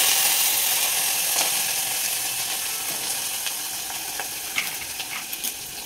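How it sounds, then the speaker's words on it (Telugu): Curry leaves dropped into hot oil for a mint and tomato chutney, giving a steady sizzle with a few sharp crackles and spatters, plus light scraping near the end. "కరివేపాకు వేసుకుంటున్నాను."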